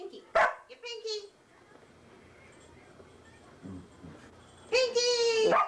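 A dog barks indoors, with a sharp bark at the start, a few quieter yips, and a louder burst of barking near the end, separated by stretches of softer sound and some nearby talk.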